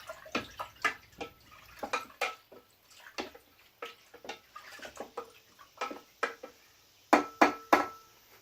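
A trusty wooden spoon stirs a negroni cocktail, giving irregular light clinks and taps close up, like ice knocking against glass, in quick clusters with brief pauses.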